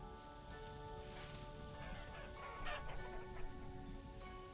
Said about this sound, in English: So many chickens.